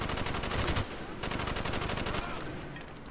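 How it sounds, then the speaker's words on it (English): A minigun in the video game Black Ops fires in a dense, continuous rapid stream of loud shots that barely lets up, with only a brief dip in the middle. "Oh, he's got a minigun like I did."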